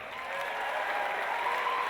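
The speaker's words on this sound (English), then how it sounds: "By a round of applause, who's seeing Russell for the first time? Clap it up." A comedy club crowd claps in a short, steady burst of dense applause during a stand-up opening set ahead of Russell Peters.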